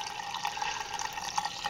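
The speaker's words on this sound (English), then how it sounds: "the wort going into the pitcher is a lot clearer" Wort draining into a pitcher on a double IPA brew day, a soft, continuous trickle of liquid pouring with faint splashy flicker, fairly quiet and steady throughout, no talking.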